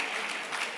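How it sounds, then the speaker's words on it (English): An audience at a ministerial forum opening ceremony breaks into brief applause, a dense even patter of many hands heard alone. "Clap for that now."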